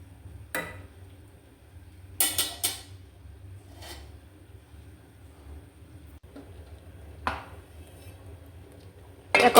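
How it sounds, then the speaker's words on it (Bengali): A spoon stirs pabda fish curry with winter vegetables in a pot, giving a few scattered, faint scrapes and clinks separated by long quiet gaps. "ভালো করে নেড়ে চেড়ে দিতে হবে, সব কিছু মিশিয়ে নিতে হবে ভালো করে।"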